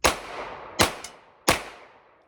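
Smith & Wesson Model 422 pistol fired at a target, three sharp close shots spaced under a second apart, each with a short ringing decay.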